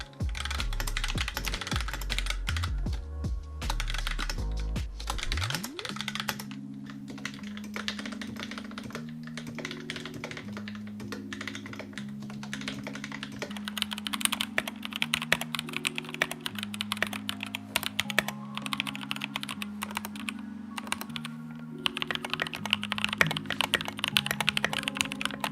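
Steady, rapid clatter of switches on a hot-swap mechanical keyboard being typed, close and continuous, with a soft musical tone underneath.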